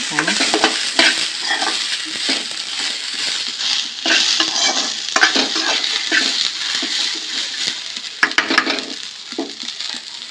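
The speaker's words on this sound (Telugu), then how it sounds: "ఒక సైడు వేగుతుంది, ఒక సైడ్ వేగదు కదా, అందుకే చుట్టుపక్కల అన్నీ ఇట్లా వేగించుకోవాలి" Sweet corn is stirred and roasted in a pan, with a continuous sizzle and frying crackle under repeated scraping and clinking of a utensil against the metal.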